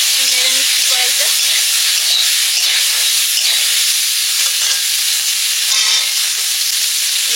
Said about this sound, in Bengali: একটু কড়াতে ওই লঙ্কা জিরে দিয়ে একটু নেড়ে নেব।